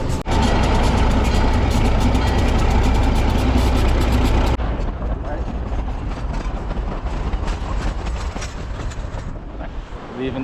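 A train engine idles loudly at a station in Colorado's Chicago Basin, a heavy rumbling drone that drops abruptly to a quieter steady hum midway, with faint voices nearby.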